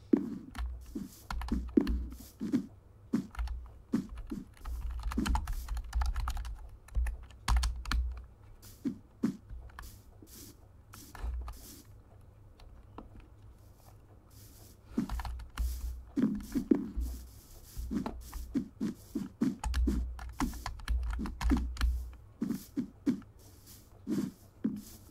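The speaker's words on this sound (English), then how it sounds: "Keyboard time." Rapid clattering keystrokes on a computer keyboard come in uneven bursts with brief pauses, close and fairly loud, with a low steady hum underneath.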